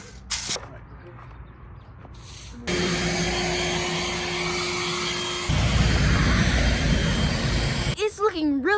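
A leaf blower clears debris off a city sidewalk, its loud steady whoosh starting abruptly and running continuously, growing rougher and louder partway through before cutting off, with brief voices near the start and end.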